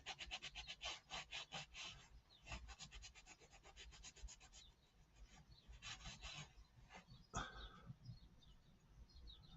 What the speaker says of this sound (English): depends on how rough you basically rub it